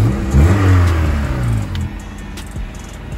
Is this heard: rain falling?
no